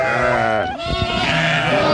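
Sheep and lambs bleating in a flock on a highland pasture, several loud overlapping bleats close by in a dense, continuous chorus.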